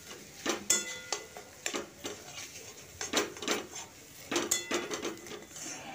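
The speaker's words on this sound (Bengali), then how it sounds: "এই আলুগুলোকে একটু ম্যাশ করে দিয়ে দিচ্ছি। দিয়ে একটু মিশিয়ে একবারে আমি শুকনো করে নেব।" Boiled potatoes being mashed and mixed in a pan, with repeated scraping and clinking knocks of a utensil against the metal, irregular bursts close by and fairly quiet.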